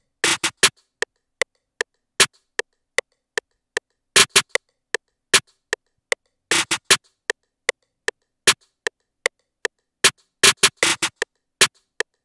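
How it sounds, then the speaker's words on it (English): A crisp, punchy snare sits in a sparse trap beat made in FL Studio, hitting in a steady pattern with quick flams and rolls between the main hits, loud and dry with silence in between. "I went with the snare that is pretty saucy on this one and it sounds like this."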